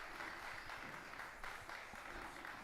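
A crowd applauds at the final of a men's international open pool tournament. The clapping is steady and sustained, spread across the arena, and fairly faint, with no clear talk over it.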